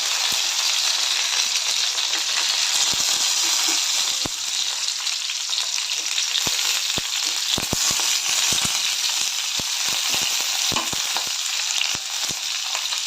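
Green chillies stuffed with besan fry in hot oil with cumin, ginger, garlic and curry leaves, giving a steady close sizzle broken by sharp spattering pops and occasional clinks of stirring, with no talk.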